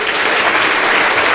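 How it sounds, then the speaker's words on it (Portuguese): Dense, steady applause from a church congregation during a sermon, many hands clapping at once with no pauses, loud and close throughout. "Você pode aplaudir ao Senhor?"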